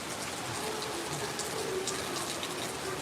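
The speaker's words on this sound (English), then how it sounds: "Look at this rain." Steady, dense rain falls throughout on a chilly day in the Philippines, a continuous close hiss of drops on surfaces with no talking.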